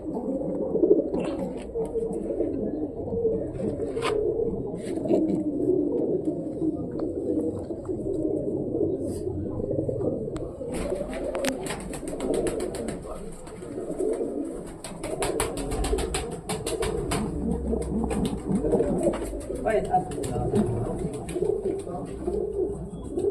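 Pigeons coo steadily in a breeding loft in Meerut. Their soft, overlapping calls run throughout at close range over a busy murmur of background noise.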